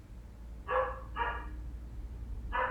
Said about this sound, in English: I'm sorry guys if you hear my dog.